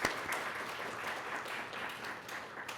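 A church congregation at a Sunday worship service claps in welcome for a returning member, producing soft, steady applause from many people that sounds somewhat distant and continues evenly throughout.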